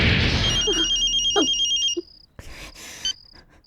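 A telephone rings in an action film, a loud electronic bell trill repeating in bursts with a brief gap between rings, close and clear over a low background.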